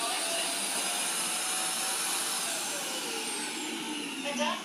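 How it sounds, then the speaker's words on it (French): A Proscenic X1 robot vacuum being emptied by its charging station makes a loud, steady roar with a high suction whine, running continuously throughout before faltering slightly at the end. "écoutez bien, l'aspirateur par la station de charge"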